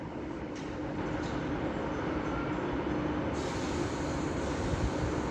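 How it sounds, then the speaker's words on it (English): A delayed Northern service to Rochdale at Manchester Victoria, running with a fault, pulls away with a steady low rumble and engine drone, heard moderately near and without talk. "So now getting ready to depart is the delayed 1443 Northern service to Rochdale"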